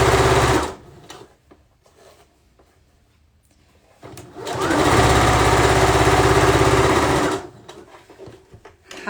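A serger hems a pillowcase in two loud, close bursts of rapid, even mechanical whirring. The first is short and the second runs several seconds, with a quiet stretch of faint handling noise between them.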